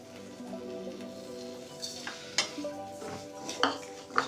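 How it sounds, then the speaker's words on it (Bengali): Bread crumbs are stirred into a frying mughlai masala of chilli, turmeric, ginger and garlic in a pan. A soft steady sizzle runs underneath, broken by several sharp scraping clinks of the spoon against the metal. "ব্রেড ক্রামসটা দিয়ে ভালো করে নাড়তে থাকবো"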